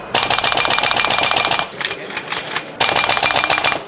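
Replica AK rifle fires a rapid magazine dump in two long bursts at a trade-show shooting range, a loud dense rattle broken by a short gap of scattered shots.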